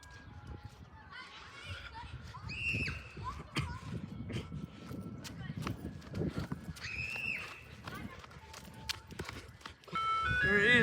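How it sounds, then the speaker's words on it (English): An ice cream truck in Fresno, California plays its tinkling jingle at moderate distance, the melody coming and going in short phrases under street noise and people talking. "There it is, the ice cream truck."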